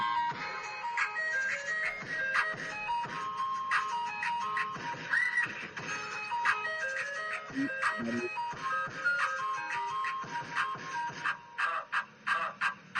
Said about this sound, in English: cue the ice cream truck